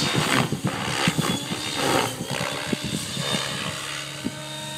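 An AleeS RC Rush 750 model helicopter flies nearby, its rotor chopping in rapid pulses over a steady engine whine that fades a little toward the end, with no talk.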